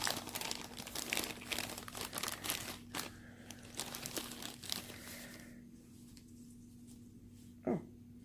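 Plastic packaging of a cross-stitch kit crinkles and crackles close by in a busy run of rustling and tearing, then settles into quieter handling with one brief sharp crunch near the end.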